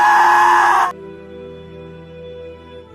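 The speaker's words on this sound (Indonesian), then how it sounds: "Melihatnya, Moon menjerit histeris." A woman's loud, piercing scream in a horror film fills the first second, then stops abruptly, leaving a quieter sustained musical drone.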